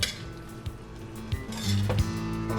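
Simmering okra in a pot being stirred, close metallic clinks and knocks of a spoon against the pot at irregular intervals over a faint bubbling sizzle.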